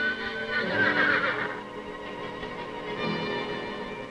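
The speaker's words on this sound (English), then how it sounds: "Unwilling to give up the struggle, the horses charge desperately up the crumbling slope." Wild mustang horses whinny loudly and repeatedly while charging up a crumbling slope, their high neighs rising and falling over a steady rumbling background.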